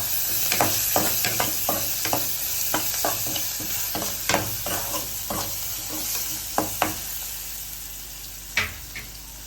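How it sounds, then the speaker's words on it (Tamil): Sliced onions and dried fish are stirred in a hot pan, with a steady sizzle broken by repeated scraping strokes of the spoon, close and moderately loud, and no voices. "வெங்காயம் இந்த அளவுக்கு வதங்கினதுக்கு அப்புறம் அந்த கருவாடையும் போட்டு ஒரு 2 நிமிஷம் பெரட்டி விட்டு சிம்ல வச்சிருவோம்."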